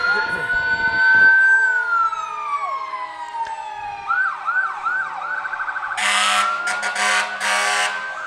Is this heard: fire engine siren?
yes